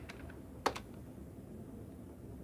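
A computer keyboard is used to type a DOS command: a few soft keystrokes close by, one sharper tap standing out, over a quiet room hum.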